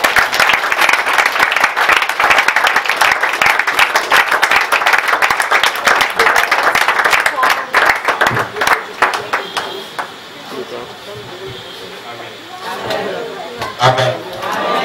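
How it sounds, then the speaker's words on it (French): A church congregation at a thanksgiving service applauds loudly and steadily for about eight seconds, with voices mixed in, then the clapping thins out into scattered claps, murmuring and speech for the rest. "Acclame pour le Seigneur."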